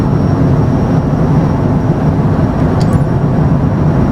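An airliner in a flight simulator game gives a loud, steady engine roar that stays constant and continuous, with no voices over it.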